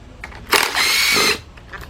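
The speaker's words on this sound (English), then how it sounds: "grab you an 8mm deep 3/8 drive and put that on to your cordless impact" A cordless impact wrench fitted with an 8mm deep 3/8-inch drive socket runs in one loud burst of about a second, rattling and hammering close by, on a Chevy Equinox or Buick Rendezvous engine.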